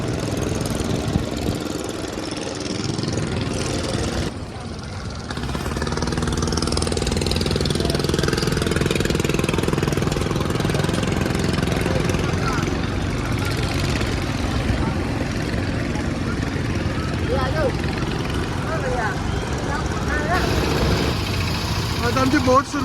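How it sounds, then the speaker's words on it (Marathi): A boat engine drones steadily as the boat gets underway on a pilgrimage trip to Omkareshwar, a loud continuous motor rumble over water with voices talking over it throughout. "आता आमची बोट सुरुवात झाली आहे."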